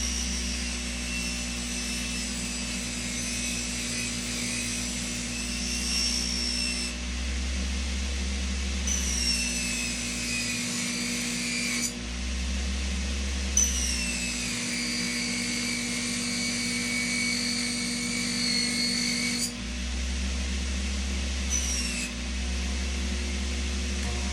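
Jewelry buffer motor running at high speed, around 8,000 to 10,000 RPM, a steady close whine and hum that shifts in pitch several times as the load changes, with no talking.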